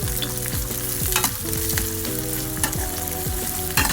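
Tomatoes frying in oil in a pan for moong dal sambar, a steady close sizzle with stirring scrapes and clatter throughout, with a low background hum and no talk.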